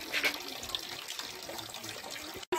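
Water runs steadily from a small spout at a spring, a continuous close splashing flow that cuts off briefly near the end.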